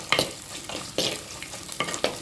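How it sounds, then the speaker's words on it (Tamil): Mustard seeds, dried red chillies and small shallots sizzle in hot oil for a South Indian dal kuzhambu, with close, crackling bursts and repeated stirring scrapes in an uneven rhythm. "எண்ணெய் காஞ்சதும் கடுகு, வரமிளகாய், சின்ன வெங்காயம் போட்டு நல்லா"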